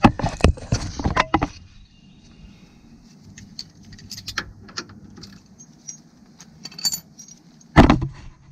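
Metallic clinks and ratcheting clicks while half-inch shock bolts are removed from a C6 Corvette, scattered irregular taps over a low background hum, close by, with a burst of handling noise at the start and end.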